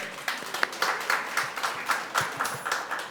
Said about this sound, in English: Let's give all of the presenters a big round of applause.